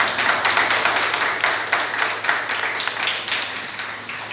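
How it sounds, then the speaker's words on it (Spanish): Congregation in a church service applauds, a dense, steady patter of many hands clapping that fills the whole stretch at fairly close range with no talking. "Dale un aplauso al que vive."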